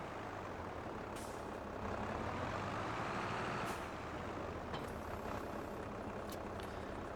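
A Fendt tractor drives in a farming game, its engine a steady, muffled drone with a low rumble that swells slightly midway, joined by a few faint high tonal blips.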